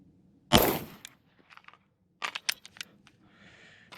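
One loud, close AR rifle gunshot cracks sharply, then decays. A cluster of quieter clicks and rattles of handling follows, with a faint hiss near the end.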